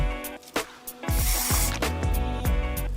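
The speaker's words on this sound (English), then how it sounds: "So we're just going to spray this along the hairline." A few quick hissing sprays from a spray bottle along the hairline of a blonde bob wig, close by, over a background of steady music.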